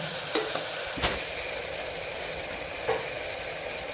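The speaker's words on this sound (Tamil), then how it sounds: "வெங்காயம், பூண்டு, தக்காளி 3 நல்லா வதங்கணும்." Onion, garlic and tomato sizzling softly in a pan with a few sharp clicks of a spoon stirring against the metal.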